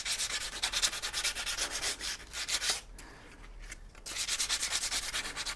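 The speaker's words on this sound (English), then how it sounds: "Then a bit of 180 grit sandpaper just to take the corners off." Sandpaper of 180 grit is rubbed over the corners of a wooden canvas stretcher frame in quick, rhythmic back-and-forth strokes, close and steady, pausing briefly near the middle before resuming.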